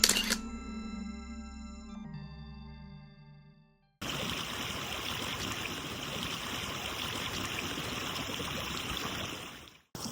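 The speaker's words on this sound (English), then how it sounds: "So right now we're kind of at this waterfall kind of section" A waterfall section of a stream in Snowdonia National Park, steady broadband rushing water loud and close for most of the clip, following a camera's mechanical shutter clicks at the start.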